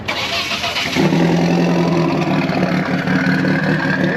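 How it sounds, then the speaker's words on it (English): An old Lotus Esprit sports car engine cranks and catches, then settles into a loud, steady rumbling idle, close by. "We're gonna fire the old Lotus up."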